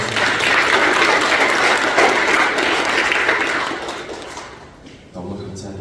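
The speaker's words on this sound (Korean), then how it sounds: "모두를 위해서 함께 박수하겠습니다" A church congregation claps together in sustained, loud applause that fades out near the end.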